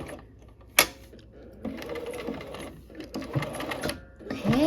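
A sewing machine stitches fabric in bursts, close and fairly loud, with a sharp click near the start and brief pauses between runs of stitching.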